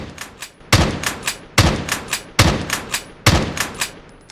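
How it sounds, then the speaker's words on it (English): Hunting rifle in the arena shooter game Templar Arena firing single shots, five sharp loud cracks spaced roughly evenly about a second apart, each with a brief crackling tail and fainter ticks between. "The hunting rifle fires a single high-damage bullet with a long cooldown"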